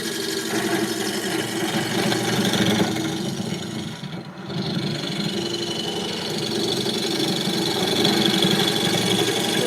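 A wood lathe spins steadily while a thick scraper works the inside of a bowl, making a continuous rough, buzzing rasp with a short dip in the middle.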